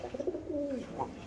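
Fancy pigeons coo at a large pigeon farm, a soft throaty coo or two heard close by with no talk over it.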